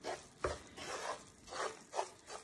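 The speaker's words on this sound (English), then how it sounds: "I've been stirring it constantly." A mixture slowly frying in a pan over a very low flame is stirred constantly, giving repeated scraping, rubbing strokes about every half second to second, close and moderately loud with a faint sizzle beneath.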